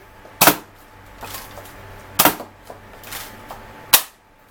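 Three sharp pops from a Nerf-style toy foam dart blaster, spaced about a second and a half apart, each with a quick snappy attack and brief mechanical rattle.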